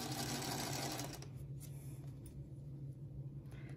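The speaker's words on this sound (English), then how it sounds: "I remember that I'm sewing this from the other angle" A sewing machine stitches a quilt block for a 6" x 12" Tall Pines pattern, its steady motor hum loud at first, then easing into a quieter continuous run.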